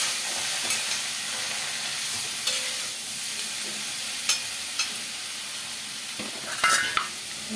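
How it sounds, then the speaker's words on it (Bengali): Vegetables seasoned with homemade ginger powder fry under a lid, giving a steady muffled sizzle with occasional knocks and scrapes of the lid or spoon, close and moderate, with no talk. "এখন আস্তে আস্তে ঢাকা দিয়ে দিয়ে আমি কষিয়ে নেব।"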